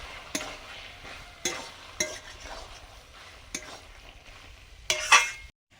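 Taro flowers fry in a karai with salt and slit green chillies, a soft continuous sizzle broken by a handful of sharp spatula scrapes and clinks against the pan, with a louder stir just before it stops.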